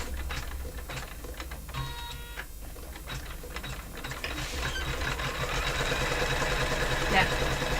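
Embroidery machine stitching a Father's Day cushion, a steady mechanical whir with fast repetitive ticking of the needle that grows a little louder toward the end, with faint talk at moments.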